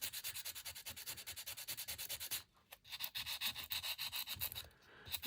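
A thrifted craft item being polished by hand, a fast rhythmic back-and-forth rubbing with about eight strokes per second, close and fairly quiet, pausing briefly midway before resuming at the same pace.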